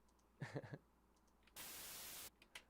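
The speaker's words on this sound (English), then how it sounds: "That little white noise" A short burst of white noise, a smooth 'shh' hiss used as an effect in a music mix, sounds for under a second and cuts off abruptly after a brief muffled thump and some quiet mix elements.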